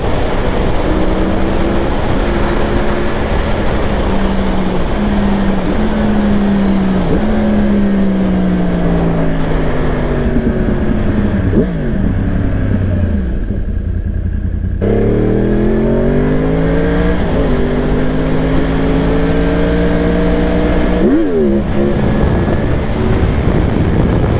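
A Yamaha R1 sport motorcycle accelerates hard through its gears, the loud close engine note climbing in pitch, dropping sharply at each shift, then climbing again, steady roar throughout with no talk.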